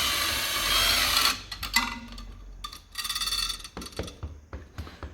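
A 7mm socket works a hose clip loose, giving a run of quick close ratcheting clicks with short pauses and a few metallic taps between turns, no voice over it.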